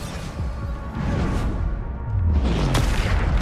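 Bombarda spell explosions in the video game Hogwarts Legacy, deep booming blasts with whooshing swells that grow louder and heavier toward the end.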